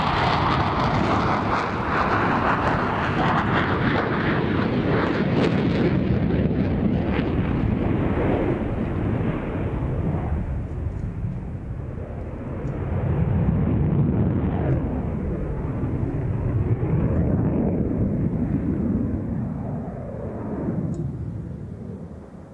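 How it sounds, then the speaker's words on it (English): A Swiss Hornet fighter jet makes a very hard, high angle of attack pull at an air show, giving off a loud, continuous roar with heavy rushing and rumbling that swells and eases over about twenty seconds. "it's easy to see why the Swiss went for the Hornet, a very agile aircraft to fly in the mountainous confines of that country"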